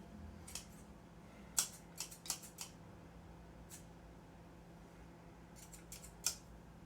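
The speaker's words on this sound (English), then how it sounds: "a nice pair of scissors" Quiet scissors snipping in a handful of short, crisp cuts, some in quick pairs, over a faint low hum with no talking.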